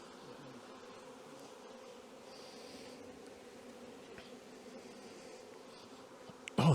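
Honeybees hum steadily around a hive at a queen-rearing workshop, a soft continuous drone of many bees with a sudden loud handling thump at the very end.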